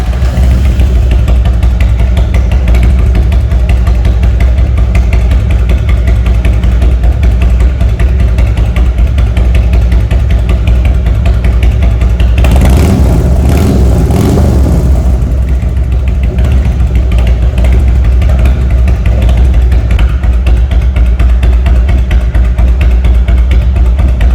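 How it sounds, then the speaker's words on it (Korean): A loud, deep Harley-Davidson Road King exhaust, 1450cc carbureted Twin Cam engine with Thunder mufflers, rumbles steadily at idle, a continuous low throb with a brief surge of revving partway through. "카브레더 썬더 머플러의 말발굽 소리 한번 들어보겠습니다."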